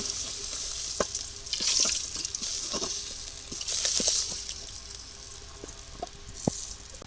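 Fish fries in oil in a wok (kadai), a constant close sizzle broken by sharp clicks and scrapes of a spatula stirring, with brief swells of louder spitting.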